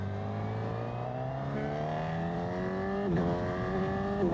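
A Honda CB1000GT motorcycle accelerates hard in second gear, its engine note climbing steadily in pitch for about three seconds before a brief dip and renewed rise, loud and close with no voices.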